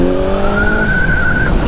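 A 2020 Kawasaki Z900 naked motorcycle's engine drones loudly while riding, its pitch climbing smoothly as it revs up over steady wind rush, then dropping off abruptly.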